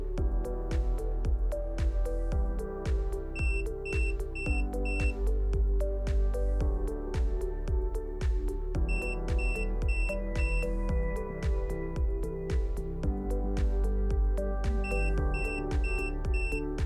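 Short electronic beeps from an alarm control unit's buzzer during a reset sound in groups over a steady background of rhythmic music, recurring three times with brief pauses between bursts.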